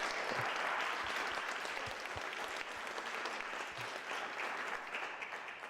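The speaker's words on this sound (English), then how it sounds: "can we get a round of applause for this great panel?" An audience in a church applauds a panel, dense and sustained clapping that holds steady throughout and fades slightly at the close.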